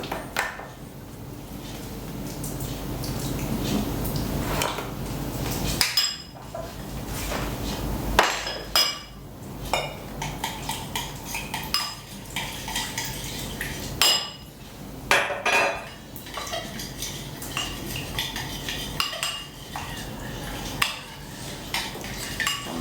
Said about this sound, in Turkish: 3 çorba kaşığı domates salçasını suyla önce bir eriteceğim.